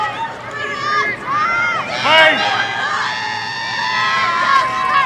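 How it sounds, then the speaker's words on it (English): Crowd cheering at a Maryland home field hockey tournament game against Northwestern at the Maryland Field Hockey and Lacrosse Complex: steady loud cheering with high shouts and whoops throughout, voices rising in swells. "Great crowd here at the Maryland Field Hockey and Lacrosse Complex."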